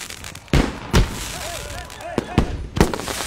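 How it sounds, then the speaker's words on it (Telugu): Firecrackers go off in a street during a village funeral procession: several sharp, loud bangs at irregular intervals, with voices and crowd noise between them. "అన్నా ఏంటయ్యా ఈ టపాసులు ఎక్కడికున్నారేంటి?"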